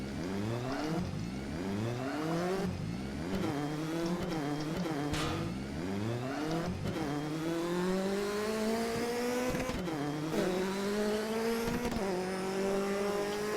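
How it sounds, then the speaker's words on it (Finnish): A video game rally car engine revving hard through repeated gear shifts, pitch climbing and dropping, with a brief tire squeal, continuous and close. "tää on nopea ja sitä kuuluu ihan oikeeta ralliautoja"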